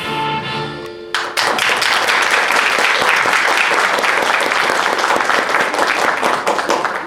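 A theatre audience bursts into loud, dense applause after a sung number in a stage musical, a brief sustained note fading just before the clapping starts and continues steadily throughout.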